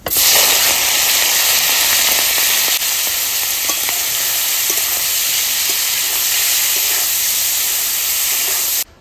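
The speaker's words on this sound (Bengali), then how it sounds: "এবার তেল গরম হয়ে গেছে, চিংড়ি মাছটা দিয়ে দেবো" Prawns rubbed with salt and turmeric frying in hot oil, a loud, continuous close-up sizzle and hiss that holds steady throughout before cutting off abruptly at the end.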